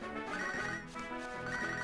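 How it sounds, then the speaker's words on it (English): Phone ringing in the Nintendo DS game Pokemon HeartGold, a steady electronic trilling ring that sounds continuously and loudly, with no talking. "it's just gonna keep ringing."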